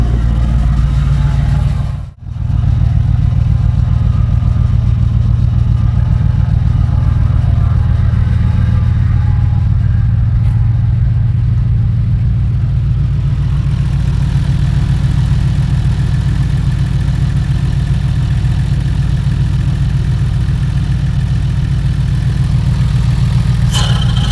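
Car with dual exhausts and a tuned ECU idling and running, a loud, steady low rumble close by that continues after one brief dropout, with no speech.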